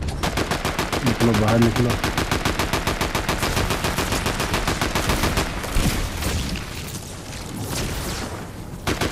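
Rapid, relentless automatic gunfire in a Fortnite match, loud and continuous for several seconds before thinning into scattered bursts, with someone shouting over it.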